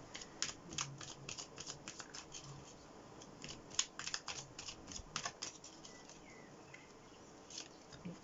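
Tarot cards are shuffled and drawn with quiet, close rustles, flicks and papery snaps coming in irregular bursts over several seconds.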